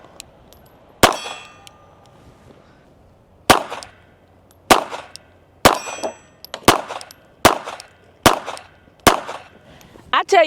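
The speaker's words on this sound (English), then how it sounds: "we're at 15 yards, hitting that steel" Shots from a .380 handgun ringing off a steel target at 15 yards outdoors: about nine sharp cracks, each followed by a metallic clang, spaced unevenly over several seconds, loud against a quiet background.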